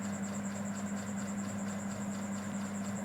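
Train at a railway station, a steady rumbling rail drone with a sustained high whine running through, continuous and fairly loud across the whole stretch.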